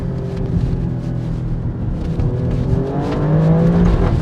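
A 2025 Alfa Romeo Stelvio Quadrifoglio petrol engine revs quickly toward its 7,400 rpm red line, the close, loud note rising smoothly in pitch over about four seconds.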